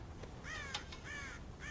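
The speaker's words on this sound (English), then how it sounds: "God damn crows!" Crows caw in Red Dead Redemption, several harsh calls in close succession repeating over a steady low ambient rumble, moderately loud.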